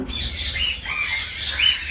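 Cockatiels and other small aviary birds squawk in a steady chorus of shrill, overlapping calls close by, with louder cries rising near the start and end and no talking.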